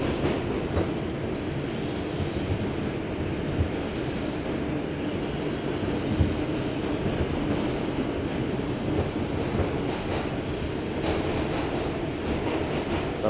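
Steady, loud rumble of an uptown New York City subway train in motion, with continuous rattling and wheel noise throughout and no one speaking.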